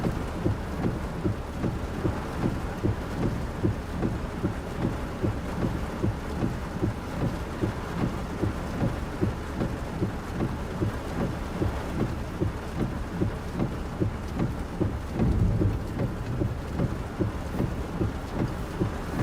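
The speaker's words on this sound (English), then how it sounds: "It rains like it's a tornado, so water's gonna get up quick." Heavy, steady rain pours during a tornado-producing storm with flash flooding, its dense roar continuous and loud, while rolling thunder rumbles underneath throughout, swelling briefly near the end.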